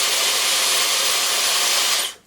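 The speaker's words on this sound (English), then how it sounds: "Diffuser it's not a loud diffuser." A Dyson Supersonic hair dryer with its diffuser attachment blows a steady, close airy whoosh for about two seconds, then cuts off abruptly, heard alone without any talking.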